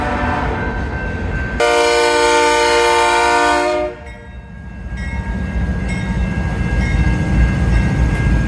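Norfolk Southern diesel locomotives pass close by, a loud steady horn blast with strong harmonics sounding for about two seconds over heavy rumbling engines, then continuing wheel and rail roar as the train rolls past.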